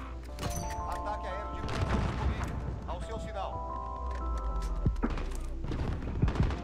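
A multiplayer shooter match gives off rapid bursts of gunfire, with sharp cracks and thumping booms arriving in irregular volleys. A player talks over the shots.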